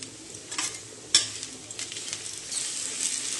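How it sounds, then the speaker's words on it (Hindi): Food sizzles as it fries in a pan on a gas stove in a home kitchen while dinner is cooked, a steady close crackle with occasional stirring scrapes and one sharp clink of utensil on metal. "तो अभी मैं फ्राई कर रही हूँ ये"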